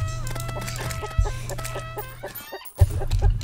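Chickens clucking in the Terraria video game, a busy run of short, quick clucks and squawks that fill the clip with a brief gap near the end.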